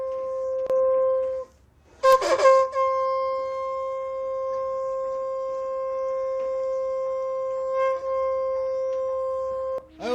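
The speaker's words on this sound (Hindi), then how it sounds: "आज शंखों की ध्वनि सुनाई दे रही है अयोध्या में" Conch shells blown in Ayodhya, sounding as long, steady, reedy blasts that hold an even pitch for several seconds with brief breaks between them. The blasts are loud and close.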